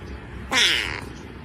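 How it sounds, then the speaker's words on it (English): A cat gives a single close, drawn-out meow lasting about half a second, rising and then fading against a quiet background. "Meow."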